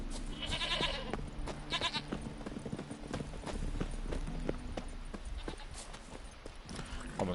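Roach, Geralt's horse in The Witcher 3: Wild Hunt, clip-clops along at a steady gait, hoof strikes repeating close and clear over game ambience, with no one speaking.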